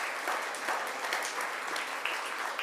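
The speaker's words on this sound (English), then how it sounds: "Let's have a round of applause." An audience at a charity gala applauds in a steady, dense wash of clapping that holds at an even level for nearly three seconds, with no voices rising above it.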